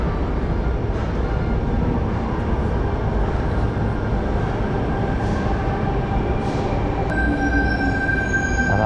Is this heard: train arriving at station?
yes